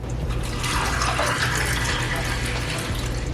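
Blueberry syrup iced tea is poured into a glass, producing a continuous splashing liquid gush with a gurgling fill, close and steady for the whole stretch.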